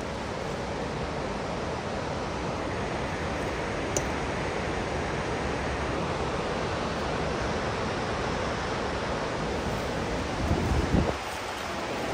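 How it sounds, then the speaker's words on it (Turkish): Large stream flowing far below a hillside, a steady, even broadband rush of water that continues throughout, with a brief knock and some wind buffeting near the end. "Bu karşısı böyle aşağıdan dere akıyor. Çok büyük bir dere var aşağıda arkadaşlar."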